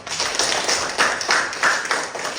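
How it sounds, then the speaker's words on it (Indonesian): Students clapping together in a classroom, a quick, evenly paced run of claps close to the recorder, filling the short moment without talk. "tepuk tangan untuk kita semua"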